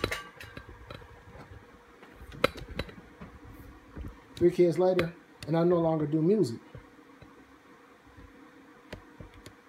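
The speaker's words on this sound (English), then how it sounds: "I got my routers and switches on, so that's the noise you hear." Running network routers and switches in a home networking lab give off a steady, faint electronic whine and hum that sits in the background under a person's speech.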